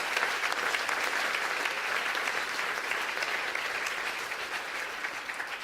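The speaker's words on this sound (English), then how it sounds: "Give her a round of applause." Steady applause from an audience, a continuous wash of many hands clapping at moderate distance that holds evenly and tapers slightly at the end.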